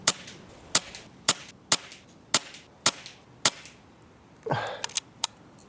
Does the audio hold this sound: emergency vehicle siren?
no